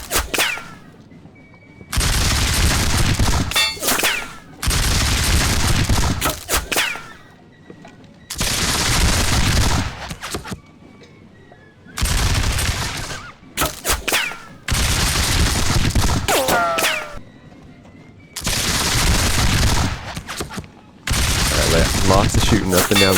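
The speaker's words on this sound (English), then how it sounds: "lots of shooting up and down the line now" Musket volleys crackling along the battle line in the WDS War of the Austrian Succession strategy game, loud bursts of rapid massed gunfire lasting a couple of seconds each, separated by short quieter gaps.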